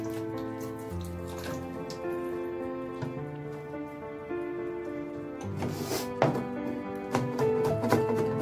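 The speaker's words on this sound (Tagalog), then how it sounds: "Sile, kailangan lagi nyo hugasan." Chili peppers are washed under a running kitchen tap, with a continuous splash of water and small splatters heard beneath sustained background tones and faint clatter, getting busier toward the end.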